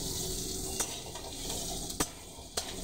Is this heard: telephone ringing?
no